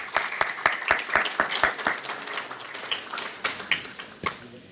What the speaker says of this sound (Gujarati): આપણે બધા તાળીઓથી વધાવી લઈએ એને